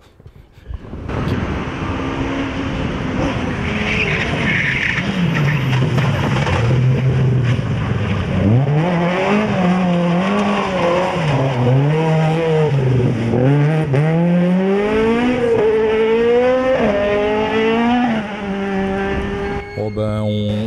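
A rear-wheel-drive rally car, freshly serviced engine, races along a sprint rally stage, the engine revving high and loud continuously, with repeated rising and falling pitch as gears shift through corners over about twenty seconds.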